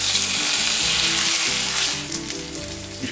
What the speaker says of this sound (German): Ich brate hier 3 Eier.